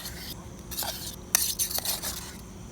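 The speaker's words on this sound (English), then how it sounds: "Things are sizzling nicely." Food sizzles in a pan over a campfire stove in the woods with a steady crackling hiss, interrupted by scraping and clinking of a utensil against the metal, close by.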